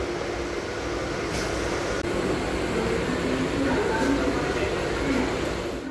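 Steady rumble and rattle of a moving Bandel local passenger train heard from inside a carriage, with faint murmur in the background throughout.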